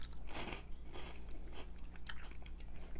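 Crunchy Cheetos cheese balls are bitten and chewed close up, giving several crisp crunches in an irregular rhythm over quiet background hum, with no talking.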